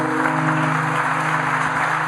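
Church congregation applauding steadily and densely for about two seconds, with a sustained organ or keyboard chord droning underneath.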